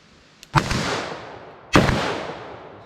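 Two loud, sharp .44 Magnum soft point gunshots ring out about a second apart at an outdoor range, each a hard crack followed by a long, decaying echo.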